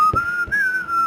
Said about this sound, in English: One of them is real kind of almost Scottish sounding with whistling.